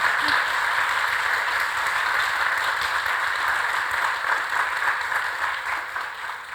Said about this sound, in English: can we just give a round of applause to this fabulous panel?